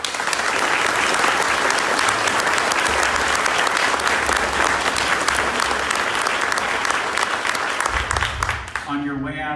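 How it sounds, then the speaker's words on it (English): An audience at a political candidates' debate breaks into loud, sustained applause that fills the room for several seconds before it tapers off and a voice begins speaking at the end. "I think they deserve a round of applause"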